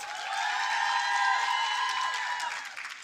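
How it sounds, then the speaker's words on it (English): An audience applauds and cheers for a university choir at a women's empowerment conference, a steady wash of clapping with voices rising over it that fades toward the end. "Let's give them another round of applause."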